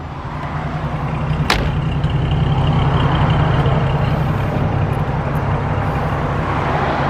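A 1937 Chevrolet 2-Door Town Sedan engine cranks and catches, settling into a loud, steady idle close by, with a sharp click near the start and no talking.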